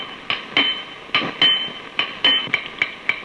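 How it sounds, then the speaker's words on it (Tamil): A horseshoe being hammered: about a dozen sharp metallic clinks in an uneven rhythm, close and ringing, with no talking. "நல்ல லாடமா தட்டியா"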